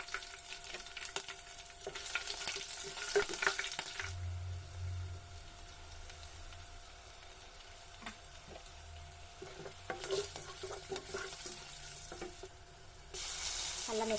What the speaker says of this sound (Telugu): ఆయిల్ కొంచెం వేడయ్యాక కొంచెం కరివేపాకు వేసుకోవాలి.